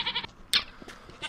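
Minecraft goats bleating in short nasal bursts, several quick calls spaced across about a second, close and fairly quiet, with no talking over them.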